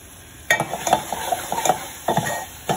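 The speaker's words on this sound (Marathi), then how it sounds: "1-2 मिनिटं फक्त भाजून घेऊया आपण" Masala being dry-roasted in a pan while a spoon scrapes and stirs it in irregular clinks and scuffs over a faint sizzle, close and fairly loud, with no talking.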